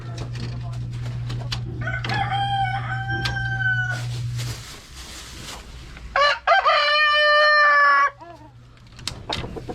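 Rhode Island Red chickens cluck and a rooster crows loudly nearby in two strong bursts, with a steady low hum running through the first half and more clucking around it.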